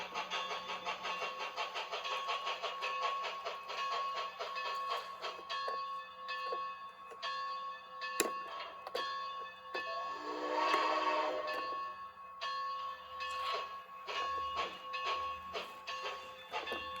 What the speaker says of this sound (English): enjoy the view of the train running by